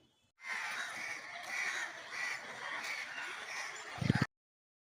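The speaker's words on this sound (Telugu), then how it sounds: "అలా కాకులు అరిచినప్పుడు ఒక్కొక్కసారి అరిచినప్పుడు ఒక్కొక్క అర్థాలు పరమార్థాలు అయితే ఉంటాయటండి" Crows caw together in a noisy, continuous chorus, fairly close, ending with a few low thumps.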